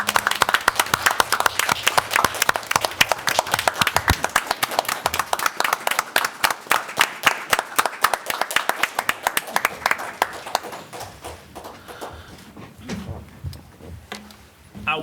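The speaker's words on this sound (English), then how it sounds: "let's give these folks a round of applause" Board meeting attendees give a round of applause, with dense close claps that thin out over about ten seconds. After the claps fade, there is quiet room noise and a few faint voices.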